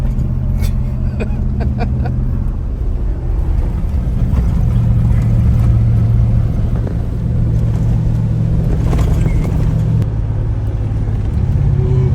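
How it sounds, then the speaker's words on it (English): Car rumbling and droning over a corrugated dirt road, a constant loud rattling engine and road noise throughout with voices talking faintly underneath. "What do you reckon about these corrugations, Pancho?"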